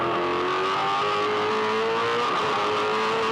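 A race car runs on a track between corners, its engine a loud, steady close drone with slight pitch changes as speed shifts, joined by rushing road and tire noise throughout.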